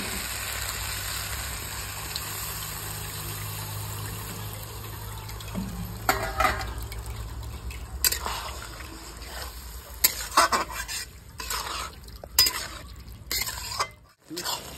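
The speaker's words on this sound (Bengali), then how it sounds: "এবার আমি ছাকনা করে নেবো, ওপরে ছিলকাগুলো পড়বে না, ওই জন্য একটু জল দিয়ে দেবো।" Tamarind pulp mixed with water and pressed through a sieve, with soft continuous watery sloshing followed by scattered scraping and clinking of the strainer against a bowl.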